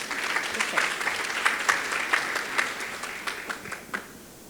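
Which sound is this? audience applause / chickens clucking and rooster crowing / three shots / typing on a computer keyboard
audience applause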